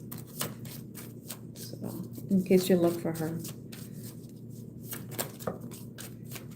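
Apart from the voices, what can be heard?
shuffling tarot cards by hand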